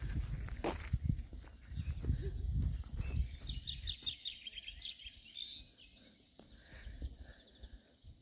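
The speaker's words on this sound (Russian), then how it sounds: "Птицы поют." Birds sing in the Normandy countryside near grazing Normandy cows, with high chirping phrases in the middle of the stretch over footsteps and low rustling in front, fainter toward the end.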